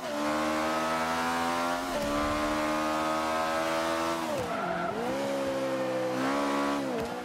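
An Ariel Atom V8 in the Forza 5 racing game revs hard near the listener, with rising and falling engine pitch through gear changes and brief tire squeal, loud and continuous with no talking.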